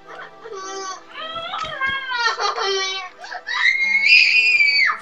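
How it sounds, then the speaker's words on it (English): A little girl screams and shrieks in long, high, wavering bursts, loud and close, with a voice breaking through between the cries. "It's a little girl screaming at you"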